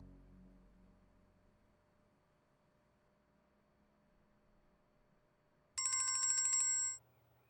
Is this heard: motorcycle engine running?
no